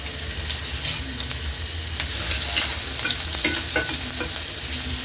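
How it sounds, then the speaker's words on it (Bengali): Onion frying in a pan with stirring, a continuous close sizzle and hiss broken by scraping strokes of the spoon, loud and alone without talk. "এর মধ্যে একটা পেঁয়াজ ভেজে নেব।"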